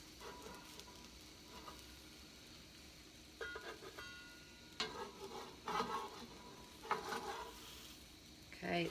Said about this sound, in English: But this pan fries them.